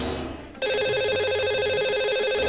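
A telephone rings out on a call line set up to reach a caller on a morning radio show, a steady electronic ringing tone that starts sharply after a brief quiet moment and holds loud and unbroken.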